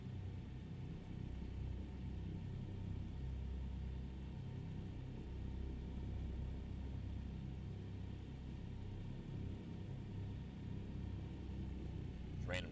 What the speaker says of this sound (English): Random trucks driving out here.